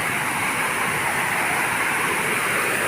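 A waterfall in the walled Villa d'Este garden in Tivoli pours as a dense, constant hiss and rush of falling water, loud and steady with no voices.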